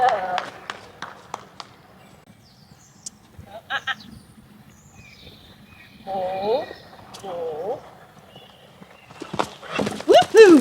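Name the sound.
horse cantering over a jump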